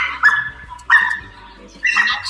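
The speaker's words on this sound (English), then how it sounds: "We have the hound dogs getting ready to go in the ring." Hound dogs at a dog show bay and yelp near the ring, with three loud, drawn-out howling cries separated by short pauses of quieter background noise.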